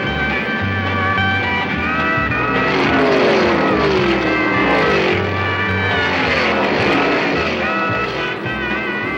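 NASCAR stock cars race at Ontario Motor Speedway, engines screaming loudly as they pass in two sweeping waves, pitch sliding down after each car goes by.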